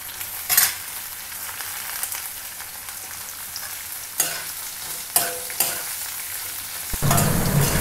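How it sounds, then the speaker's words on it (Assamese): Carrots and mixed vegetables fry over medium heat in a pan, a steady close sizzle broken by several sharp scraping stirs, with the sizzle turning louder and brighter at the end. "এই চব্জিখিনি ধুনীয়াকৈ ভাজি হৈ গৈছে। মিডিয়াম হিটত ভাজি কৰিছোঁ।"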